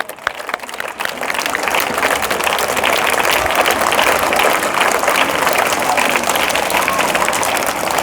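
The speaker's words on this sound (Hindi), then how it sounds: "ताली बजाओ जी।" Audience clapping at a school half-yearly exam result ceremony, a dense steady burst of applause filling the room for about eight seconds after a brief start.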